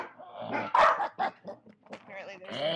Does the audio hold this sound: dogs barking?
yes